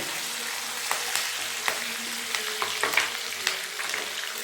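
Curry leaves and two green chillies sizzle in a generous ladle of oil for a Tamil sundakkai vathal kuzhambu, with a steady crackling hiss and scattered sharp pops and spatters throughout, no voices.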